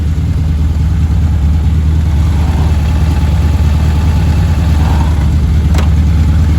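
A stock 1.6-litre car engine with one tailpipe missing idles loudly up close with a deep, raw rumble, a steady throaty drone that holds throughout with no voices.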